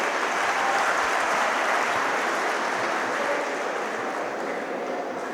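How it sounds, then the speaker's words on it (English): Sustained applause fills the hall as dignitaries and guests are welcomed at a university inauguration event in Kolhapur, dense, steady and loud throughout without a break. "So can we give a big round of applause to welcome our dignitaries and the guests."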